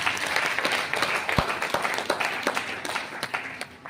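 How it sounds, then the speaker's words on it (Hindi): An audience claps together at a business gathering, a dense patter of many hands with a few sharper individual claps standing out, steady and fairly close for a few seconds. "जोरदार तालियां"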